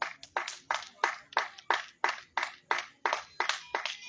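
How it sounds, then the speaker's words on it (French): Applause for a presidential candidate at a political meeting in Gabon, with distinct, evenly spaced claps ringing out one after another at a steady rhythm, fairly close and clear, with no talking over them. "que je vous demande d'applaudir s'il vous plaît"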